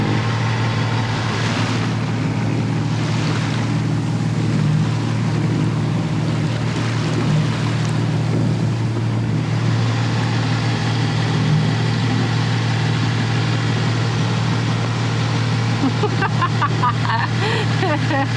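A sailboat motors under engine power on a hot, windless day at sea, its engine a loud, constant low drone that runs unbroken throughout, with faint water noise above it.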